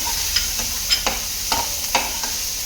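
A spice mixture for beef cutlets is stirred and fried in a pan, giving a steady soft sizzle under several sharp scraping strokes of the spoon, close and moderately loud, with no voices.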